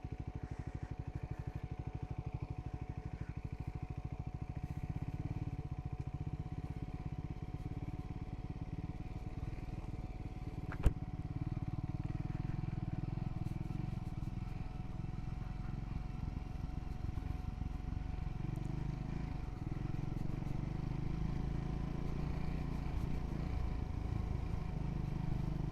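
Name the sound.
Royal Enfield Scrambler 400X motorcycle riding off-road trail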